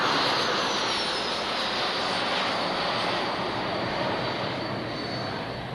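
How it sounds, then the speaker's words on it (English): Learjet business jet taxiing on an airport apron near an aircraft factory, a steady loud broadband jet engine roar with a high whine, sustained and close throughout. "There's a Lear behind us taxiing."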